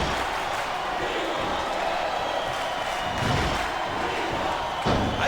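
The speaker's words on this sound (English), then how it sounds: "I think these superstars are getting some feedback from the crowd, JR." Wrestling arena crowd noise rumbles steadily throughout, a broad roar of many voices with a couple of louder swells near the middle and end, with no clear words.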